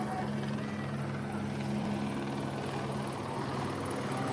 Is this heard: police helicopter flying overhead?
yes